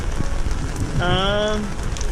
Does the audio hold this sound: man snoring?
no